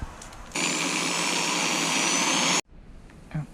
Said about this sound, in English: I gotta drill a 3/4 inch hole here in the center so I can put the switch there